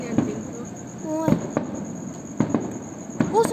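Fireworks bursting in quick succession at a celebration, sharp cracks and pops spread across the stretch with whistling squeals, while people talk excitedly over them.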